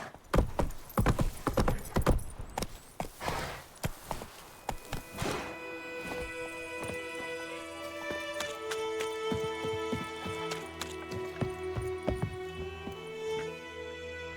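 Roach, the horse in The Witcher III, clip-clops with several close hoof strikes over the first few seconds, then goes quiet as steady tonal music carries on alone.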